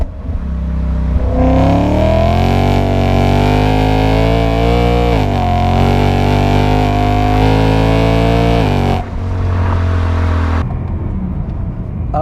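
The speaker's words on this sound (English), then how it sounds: "Another really cool feature of the engine is that high revving note." A BMW M3 E92 fitted with an Akrapovic exhaust revs hard and loud, its high-pitched engine note climbing and holding through several sustained pulls, then dropping off near the end.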